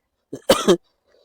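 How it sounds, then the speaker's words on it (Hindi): A single harsh cough, short and close, with a brief throaty lead-in before the main burst, then silence. "खांसी बहुत ज्यादा आ रहा है"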